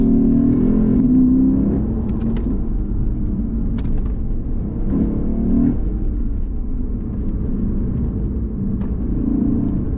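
A 2020 Lexus RCF Track Edition rumbles through a series of downshifts, its engine note rising and falling in repeated blips over a steady low drone of road and cabin noise.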